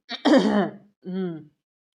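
A single person clears their throat in two rough bursts, close and loud, then falls silent.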